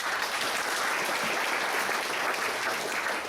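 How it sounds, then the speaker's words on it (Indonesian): Continuous crowd applause for Pak Timothy at a motivational agent gathering, a thick even wash of clapping from start to finish with faint speech murmuring underneath. "Boleh kasih tepuk tangan untuk Pak Timothy."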